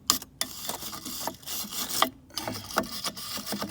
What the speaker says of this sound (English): I'm just using a regular steel brush where it touches up there in the caliper